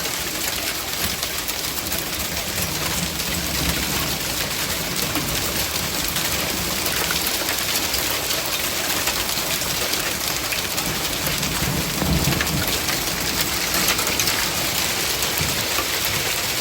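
Hail and heavy rain pour down in a June storm as a dense, steady hiss and patter, loud and unbroken throughout, with no voices.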